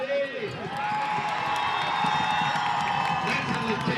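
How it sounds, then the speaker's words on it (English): A high school football game crowd cheering and whooping with scattered clapping, a sustained broad roar with a few shouts and a voice over it. "We want to hear a round of applause."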